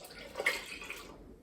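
Water is poured into a bowl for roll dough, a faint brief splash and trickle that fades out after about a second, in a quiet kitchen.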